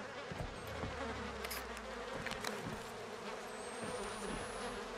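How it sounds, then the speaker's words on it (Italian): Flies buzz steadily and close by through the whole stretch in the horror game Outlast 2, a continuous insect drone with scattered small clicks and thumps and a faint rising whine near the end. "Sentono più le mosche che altro."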